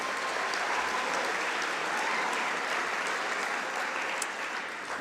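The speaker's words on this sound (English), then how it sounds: "Big round of applause, please." A graduation ceremony audience gives a big round of applause, a dense, even roar of many hands clapping that holds steady for the whole stretch.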